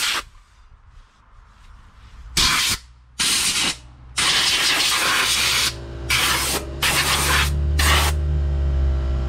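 Compressed air blasts off Ford SVT Raptor front brake parts in loud, hissing bursts of varying length, separated by short pauses, with a low hum underneath.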